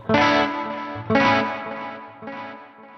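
Three distorted electric guitar strums through a ToneX Spring 4 reverb, each left ringing with a springy, echoing reverb tail that fades before the next chord.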